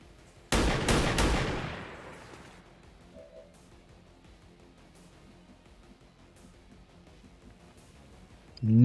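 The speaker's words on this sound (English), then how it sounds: "Just take another shot at this turret" In the Long War of the Chosen strategy game, a loud burst of gunfire hits a turret, with a couple of sharp cracks trailing into a rumbling echo, then a quiet stretch before another sound starts at the end.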